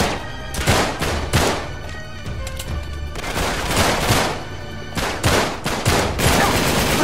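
Gunfire in Uncharted 3, repeated sharp bursts and single shots in irregular clusters, loud and close, with game ambience between volleys.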